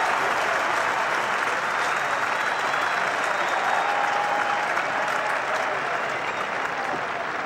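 Spectators at a 1988 England cricket match with Patrick Patterson bowling clap and cheer continuously, a broad wash of applause that holds steady for the whole stretch.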